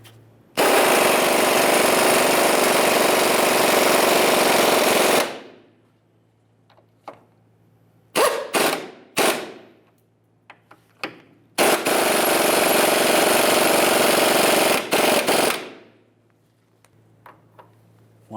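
An impact power tool runs down control arm bushing bolts on a 2002-2007 Chevrolet, in two long loud bursts of several seconds each. Short clanks and rattles of tools and parts come between them, close by, with no talking.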